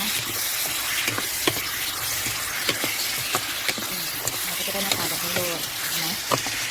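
Pork belly with soy sauce and seasoning powder sizzles in a pan while a utensil stirs and scrapes it in steady, repeated strokes, close and continuous, with a voice talking over the cooking.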